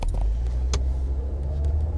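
A car in a radio crime drama rams a police patrol car: a steady low engine rumble runs throughout, broken by one sharp, brief crash-like knock partway through, with no voices.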